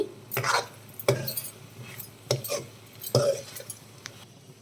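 A spoon stirs cluster beans curry in a metal pot, making four or five close, separate scraping strokes with light clinks against the sides, and no one speaks.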